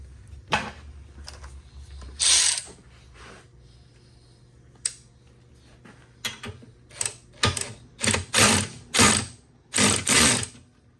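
Fasteners on a concrete spindle mold are loosened or tightened in a string of short ratcheting bursts that come faster and louder toward the end, close and with no talk.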